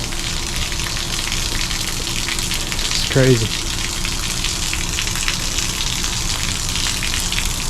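Water drains out of an RV camper water heater tank in a steady, loud rushing gush that runs throughout, with a short spoken remark partway through.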